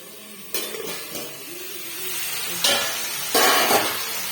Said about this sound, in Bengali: শুধু উচ্ছেই ভাজছি।